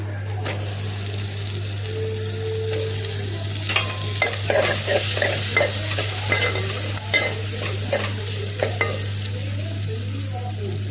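Tomatoes fry in oil with turmeric in a pan, a steady sizzle with repeated scraping stirs and clatter over a constant low hum, close and fairly loud.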